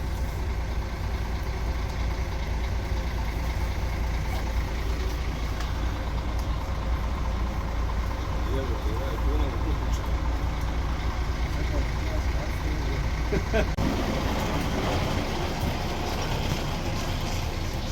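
An airport shuttle bus engine at Zagreb Airport rumbles low and steady throughout, with people talking faintly over the constant idle.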